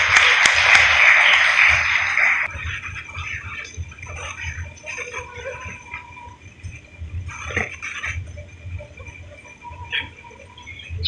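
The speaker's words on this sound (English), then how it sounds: "Let's make a round of applause." Audience applause at an IPO listing ceremony for Suntech Infra Solutions Ltd at the National Stock Exchange of India: a dense burst of clapping for about two seconds, then it dies away into quieter room noise with scattered taps.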